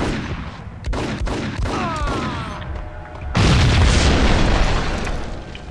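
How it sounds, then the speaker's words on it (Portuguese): A building packed with explosives blows up in the PC game Max Payne, with a loud, sustained blast erupting midway after scattered gunfire-like pops and bursts. "Porra, algo explodiu."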